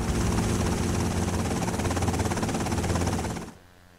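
Helicopter landing in Liberty City Stories: loud steady rotor chop and engine roar that cuts off abruptly near the end, leaving faint background.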